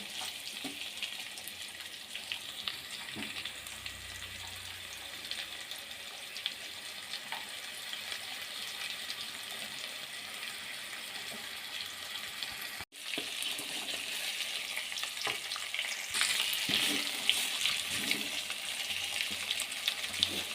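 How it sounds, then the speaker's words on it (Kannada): Lemon pepper fish frying in a pan on its second side gives a steady, even sizzle of moderate loudness, with a brief dropout partway through and a slightly louder crackle near the end; no one speaks. "ಇನ್ನೊಂದು ಸೈಡು ಫ್ರೈ ಮಾಡ್ತಾಯಿದ್ದೀನಿ"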